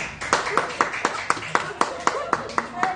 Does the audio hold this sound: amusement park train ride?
no